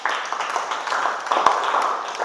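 A classroom full of people applauding during a teaching assessment, a dense, steady patter of clapping that holds throughout.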